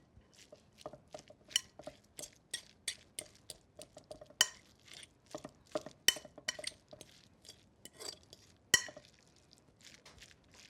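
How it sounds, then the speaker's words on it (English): A fork clinks and scrapes against a bowl while mashing jalapeño popper filling with bacon and garlic, a run of short, light metallic taps and scrapes in an uneven rhythm, close and fairly quiet with no talking. "The fork might help mash it a little bit better."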